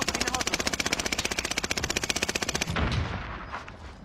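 Rapid automatic gunfire in Call of Duty: Warzone, a long burst of evenly spaced loud shots that stops abruptly, followed by a softer muffled rumble.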